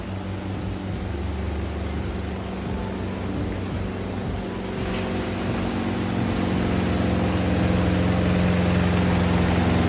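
A washing machine runs with a loud, steady low roar like an engine, a constant droning hum with a hint of rising intensity, close and continuous with no talk.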